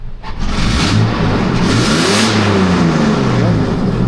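A Toyota FJ Cruiser engine revs hard and steadily close by, its pitch sweeping up and back down, with the motor running with its oxygen sensor unplugged.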